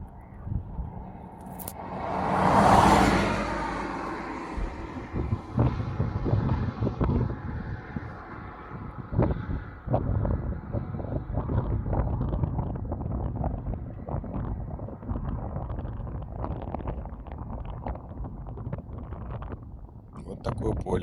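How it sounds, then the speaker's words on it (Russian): Wind rushing and whistling past a car's rear-view mirror, a steady close roar that swells into a louder gust early on and then settles into a continuous blustery hiss. "Слышите этот звук? Это ветер свистит."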